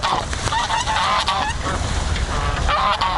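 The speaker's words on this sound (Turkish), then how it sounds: "Kazlar şu an önümde." A flock of geese honks loudly and repeatedly close by outdoors, overlapping calls continuing throughout.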